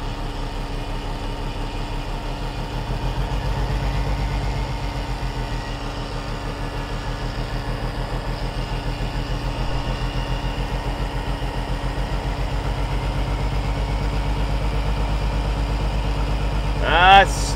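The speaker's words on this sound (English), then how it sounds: "Let's rev it up just a tick." A 1981 Kenworth semi truck's diesel engine idles with a steady low throb, swelling slightly as it is revved a little, then settling; someone talks over it and a brief higher squeak comes near the end.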